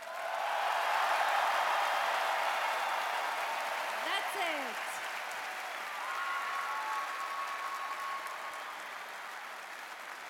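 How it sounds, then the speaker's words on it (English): A large arena audience in Vienna applauds at the Eurovision Song Contest 2015 semi-final, a broad, dense roar of clapping and crowd noise that eases slightly over time, with a voice briefly calling out over it. "let's give them the biggest applause ever!"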